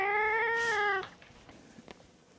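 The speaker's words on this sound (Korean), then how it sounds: "저희 고양이가 안아달라고 하니까" A pet cat gives one long, drawn-out meow close by, asking to be picked up, then quiet rustling follows.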